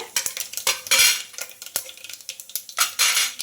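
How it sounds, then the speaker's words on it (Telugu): Chana dal and tempering spices are stirred in a frying pan, with repeated scraping clinks of a spoon against the metal over a light sizzle, close and steady, with no talking. "అలాగే పోపు దినుసులు ఈ పోపులన్నీ కొంచెం ఫ్రై అవ్వాలండి"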